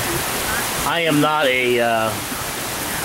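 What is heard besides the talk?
heavy rain falling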